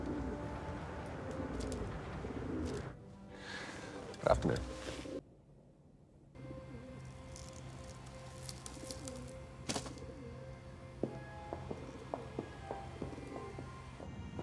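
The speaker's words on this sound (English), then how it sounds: "Poor pigeons, eh?" Pigeons coo softly in a scene from the TV series The Gentlemen, low murmuring calls heard between and under spoken dialogue.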